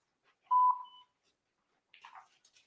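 Voicemail beep: a single clean electronic tone lasting about a quarter second, followed by a brief faint rustle, otherwise quiet.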